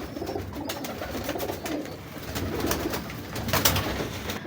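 Pigeons cooing nearby, soft low repeated coos with some rustling in the background.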